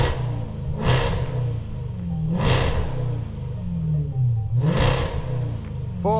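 A car engine revs up three times in quick bursts against a soft limiter around 4,000 RPM, each climbing sharply before dropping back to a rumbling idle, loud and close.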